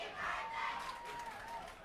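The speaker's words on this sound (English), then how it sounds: "Are we hearing a happy birthday out of the crowd?" A crowd at a high school varsity football game sings happy birthday, a faint, distant mass of voices with a drawn-out melodic line rising and falling.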